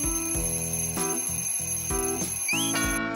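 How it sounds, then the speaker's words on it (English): An alarm clock rings in the morning with a rapid repeating electronic tone in short pulses, loud and close, layered over a busy musical background with a rising chirp near the end. "her alarm goes off"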